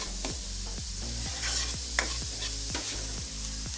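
Garlic and onion sautéing in a hot pan, a steady close sizzle with repeated scraping strokes of a spoon or spatula stirring at a regular rhythm, no voices.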